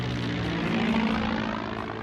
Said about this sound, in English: the US planes were arriving over the Japanese coast